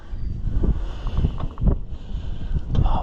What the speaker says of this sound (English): Oh man, this is windy.